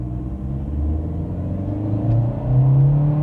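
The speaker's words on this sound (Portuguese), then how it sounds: "Vou sair aqui em drive mesmo, parei, pisando no fundo em 3" A Fiat Argo Trekking hatchback with a 1.3 engine and CVT accelerates at full throttle from a stop, its engine droning and rumbling steadily louder as revs climb, heard from inside the car with no talking.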